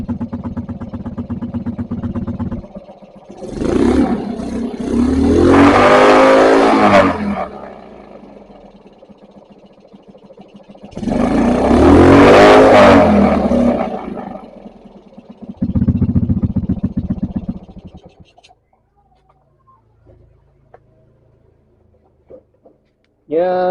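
A motorcycle fitted with a gearbox-style exhaust revs hard twice, each roaring burst rising to a loud, raspy peak before dropping back to a rough idle, with a quieter tail end near silence.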